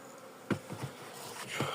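Honeybees buzz at an opened beehive during hive inspection, a close, continuous drone broken by a few soft knocks and bumps of handling.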